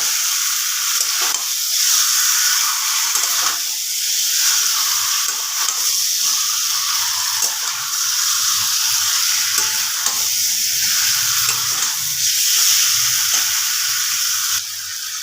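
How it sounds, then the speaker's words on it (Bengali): Chicken pieces for kadai chicken sizzle and fry steadily in a pan over high flame, with periodic stirring scrapes breaking through the continuous hiss for the whole stretch; no voices. "মাংসটা যখন কষাবেন তখন কিন্তু এটাকে একটু হাই ফ্লেমে দিয়ে দেবেন"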